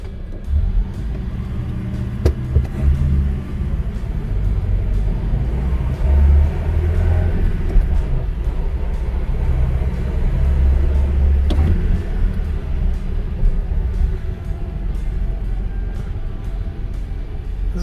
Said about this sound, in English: And we'll do a little drive.